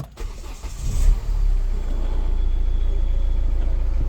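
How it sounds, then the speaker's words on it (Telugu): A 2016 Hyundai Elite i20 Asta diesel fires up from a push-button start, with a brief crank and a catch. It then settles into a low, steady idle close by. "సింగిల్ సెల్ఫ్కి ఇంజన్ అనేది స్టార్ట్ అయిపోయింది"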